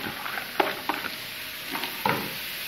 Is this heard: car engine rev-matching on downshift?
no